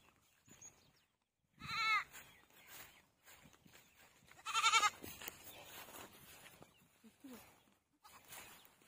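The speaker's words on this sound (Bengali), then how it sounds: "এই ছাগলগুলো দেখ, ছাগল দেখা," Goats at a rural family home in India give two loud, close bleats a few seconds apart, with quieter rustling and faint background noise between them.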